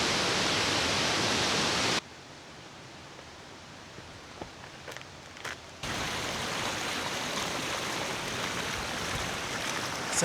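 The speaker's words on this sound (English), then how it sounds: "So the waterfall's like, yeah," A waterfall in Australian tropical rainforest gives a loud, steady broadband rush. The rush cuts to a much quieter stretch with a few faint ticks and taps, then returns just as strongly and continues.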